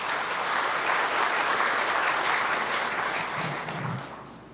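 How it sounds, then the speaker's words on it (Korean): Sustained audience applause from a large crowd at a Labor Day ceremony, dense and steady clapping that fades slightly toward the end. "여러분, 다시 한번 박수 부탁드립니다."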